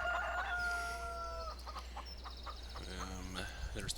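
Chickens cluck and chatter in an Idaho farmyard, with a rooster's crow mixed into the nearby, fairly quiet calls. A low hum runs steadily underneath.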